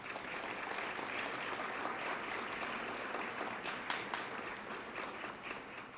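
Steady applause from a seated audience at a community Hispanic heritage breakfast, a dense even wash of many hands clapping without pause for several seconds, heard from a distance in a large room.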